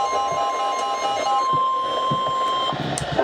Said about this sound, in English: Station will broadcast severe weather alarm tones to Winnebago.